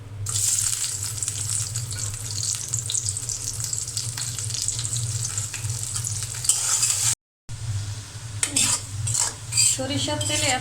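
Onions fry in hot mustard oil in a kadai, giving a steady loud sizzle with scraping stir strokes and a low hum beneath; a brief silent break interrupts it before the frying and stirring resume.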